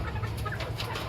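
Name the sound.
Sonali breed hen clucking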